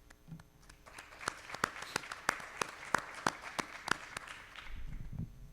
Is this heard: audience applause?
yes